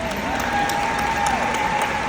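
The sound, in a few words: audience applause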